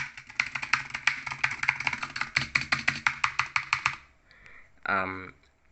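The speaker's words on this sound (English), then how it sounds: "This is the beautiful Razer Huntsman mini keyboard." Rapid, close clacking of a Razer Huntsman Mini mechanical keyboard in a steady flurry of keystrokes, stopping abruptly, followed by a brief voiced sound.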